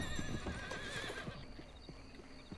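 A horse in Red Dead Redemption 2 whinnies in a long, wavering call, followed by several clip-clop hoof steps at close range with faint background noise.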